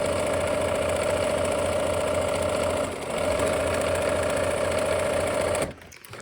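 A sewing machine stitches fabric pieces together with a steady, fast, loud whirring chatter that runs continuously, dips briefly once, then stops abruptly near the end.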